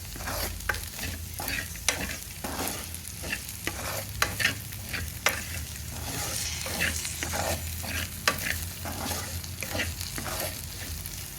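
Ladies finger okra frying with chilli powder in a pan, a steady sizzle under repeated scraping strokes of a spatula stirring, close and continuous with a rhythmic pattern.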